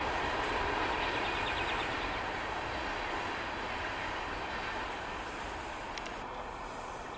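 A BNSF freight train rolls past a grade crossing in Orangeburg, New York, a loud, sustained rumble of wagons and wheels on rail with faint squeal and clatter, easing slightly toward the end.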